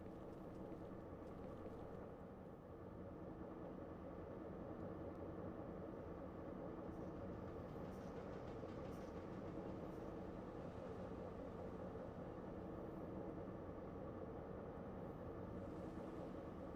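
In the video game Eden Crafters, a long train runs on, its low broadband rumble steady and unbroken for the whole stretch, close by, with no voices.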